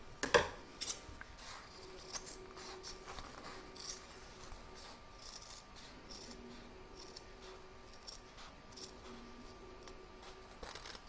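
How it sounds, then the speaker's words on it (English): Scissors cut around the outer stitch line of an in-the-hoop embroidered pouch after it is freed from the hoop, giving faint, repeated soft snips and light rustling of fabric at close range, with one sharper click near the start. "we're now going to cut around the outer stitch line."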